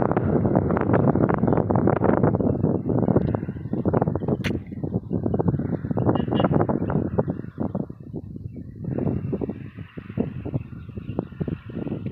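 Strong wind on a farm roars and buffets the microphone in loud, churning gusts that rise and ease over several seconds, with no one speaking.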